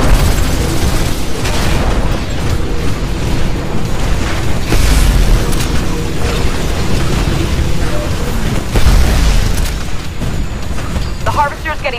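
Mortar titans barrage a harvester in the video game Titanfall, heard as a dense, loud rumble of deep booms and blasts that swell repeatedly, with speech heard in the mix.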